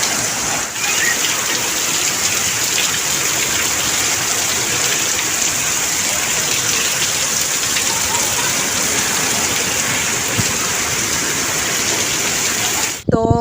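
Steady heavy rain pours down on a village courtyard filling with water, a dense, even hiss of drops hitting surfaces close by.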